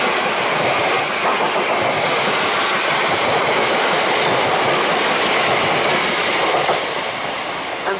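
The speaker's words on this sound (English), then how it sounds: "Here comes a double class 334 doing 2H44 from Helmsford Central to Edinburgh Waverley" A double Class 334 electric train passing at Jordanhill station, a loud, continuous rumble and clatter of wheels on rails that holds steady and eases slightly at the end, with no talking.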